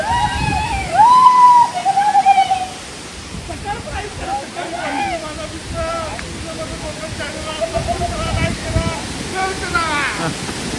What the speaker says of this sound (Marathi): या कातळाच्या दोन मधूनच आपला वॉटरफॉल आहे